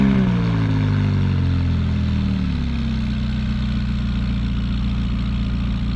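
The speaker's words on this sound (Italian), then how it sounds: "Guardate qua, che macchinetta McLaren" A McLaren sports car engine with a deep, steady rumble and a falling tone as revs drop, loud and continuous with no voices.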